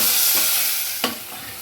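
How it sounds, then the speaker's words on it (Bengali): Onions fry in oil until reddish-brown while being stirred, giving a loud continuous sizzle with a couple of sharper scraping strokes of the spoon against the pan. "তো পেঁয়াজটা আমি ভালো করে ভেজে নিই"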